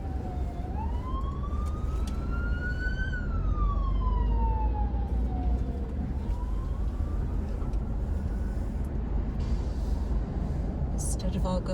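An ambulance siren wails with a slow rising and falling tone over steady road traffic noise in San Carlos, Panama, moderately close.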